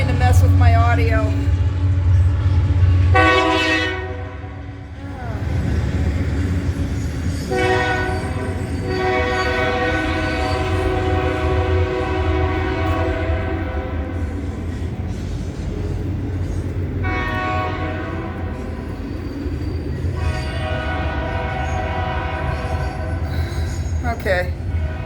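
Long, loud train horn blasts ring out repeatedly over the heavy rumble of a passing train, with wheels grinding steadily for the whole stretch; a voice speaks briefly near the start.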